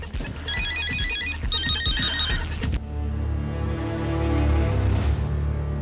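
A phone ringtone plays a bright repeating electronic melody in two quick bursts, then cuts off abruptly into a low droning musical underscore.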